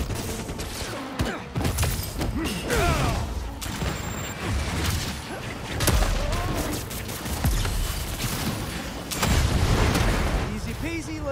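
Gunfire from Marvel's Spider-Man 2 crackles in bursts through a busy game mix, with booming impacts and a voice talking over parts of it.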